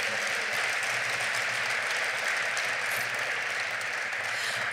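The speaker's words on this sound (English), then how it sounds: "Let's give all of those leaders a big round of applause." At a 2015 community gathering, a crowd claps in a dense, continuous, moderately loud wash that holds steady from start to finish, with no talking.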